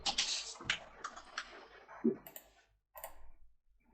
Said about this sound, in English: I'm sorry if you can hear my mouse clicking.